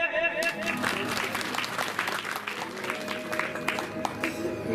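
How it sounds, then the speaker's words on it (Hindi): Applause from an audience at an outdoor Mahavir puja devotional night gathering in Manjhi, Bihar, a steady dense patter of many hands clapping over loud music and crowd noise. "ताली बजाइए।"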